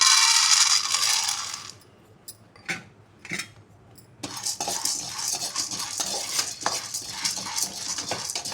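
Roasted split gram being stirred in a hot pan: close, dry metallic scraping and rattling of the spoon against the pan, a brief quiet pause, then continuous rattling stirring with a faint sizzle underneath, no talk.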